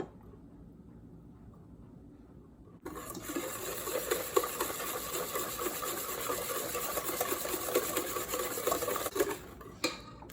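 Wet ingredients for a matcha chiffon cake, including oil and water, being whisked in a bowl. The steady, brisk scraping and swishing starts after a few quiet seconds and runs continuously and close-up, with no talking.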